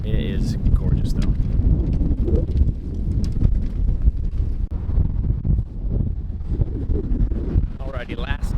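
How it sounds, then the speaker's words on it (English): Strong wind buffets the microphone outdoors near Reykjavik, Iceland, a constant loud low roar with gusting rumble throughout, while a voice talks underneath. "You probably can't hear me because the wind is whipping out here right now."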